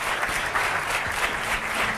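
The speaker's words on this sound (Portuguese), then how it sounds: "Quero um grande aplauso para a Tânia Anselmo." A studio audience on a Portuguese morning television show applauds a guest, a brief burst of steady, even clapping lasting about two seconds.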